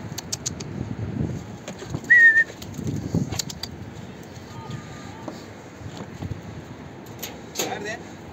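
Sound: pigeons

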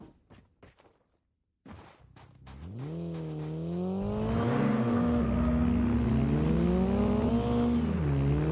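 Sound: car engine revving in video game Call of Duty Mobile

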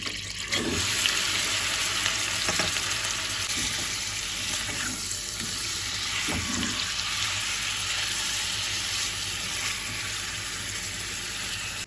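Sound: meat searing in a pot

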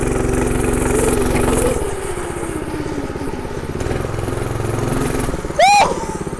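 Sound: Predator 212cc minibike engine at full throttle

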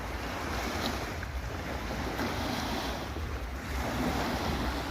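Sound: sea surf waves at night

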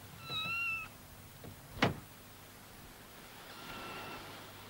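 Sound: kitten mewing

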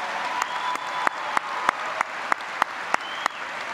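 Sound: audience applause for the school musicians

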